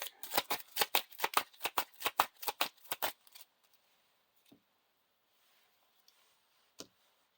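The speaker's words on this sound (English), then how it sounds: "So we shuffle a Tom Bombadil into the counter deck." A deck of cards for a Lord of the Rings living card game is riffled and bridged, about fourteen quick crisp flutters over three seconds, followed by a few faint taps and a single click at close range.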